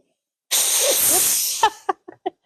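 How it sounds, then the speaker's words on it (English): A steam iron lets out one loud, close burst of steam during sewing, a broad hiss lasting about a second, followed by brief quiet vocal sounds. "I started the steam before I had it down on the fabric"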